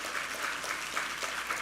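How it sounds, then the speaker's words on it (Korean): A church congregation at a Sunday worship service gives a short burst of applause, a soft, even patter of many hands heard from some distance. "우리 하나님께 감사와 영광의 박수 올려드리겠습니다."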